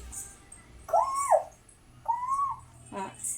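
A child imitates a cuckoo's call with two drawn-out, hooting tonal notes and then a short third sound, close to the listener against a quiet background.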